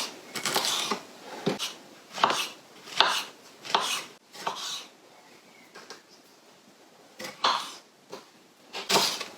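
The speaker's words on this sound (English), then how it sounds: "you need to chop up all your veggies first" Vegetables, including a pepper, chopped for pizza toppings with a knife on a board in a home kitchen: a series of sharp, close knife strikes in irregular bursts with short pauses between them.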